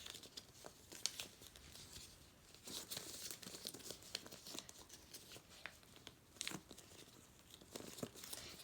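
Paper being folded and creased by hand to make a paper fortune teller, heard as close, steady crinkling and rustling with sharper creasing snaps scattered throughout and no talking.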